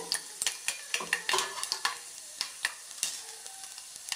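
Mustard and other tempering seeds crackle and pop in two teaspoons of hot oil on a stove for Telugu pappu palakoora, sharp spattering bursts at an uneven rhythm, close and fairly loud with no talking.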